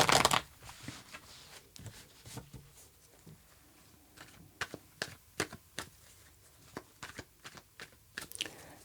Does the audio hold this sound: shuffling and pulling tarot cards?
yes